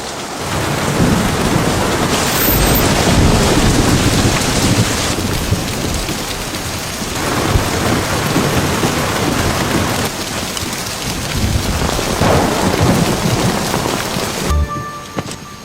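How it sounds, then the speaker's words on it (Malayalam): Heavy rain pours down in a dense, continuous roar with thunder rumbling through it, loud and close throughout with no voices. "നല്ല മഴയാണല്ലേ."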